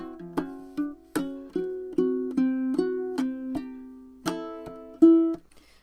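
A ukulele fingerstyle passage from the intro of a song, with a steady series of plucked notes and chord swipes, each ringing and decaying, played close with no talking.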